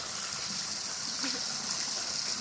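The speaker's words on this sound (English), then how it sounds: "They're playing in the water." North American otters splash and play in water at a zoo, a continuous bright gushing and rushing of water with small splashes, steady and fairly loud throughout.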